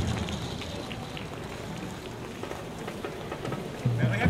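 Steady rain falls and patters on surfaces outdoors at a Sagrera running race, a dense continuous hiss with scattered drops and faint voices in the background.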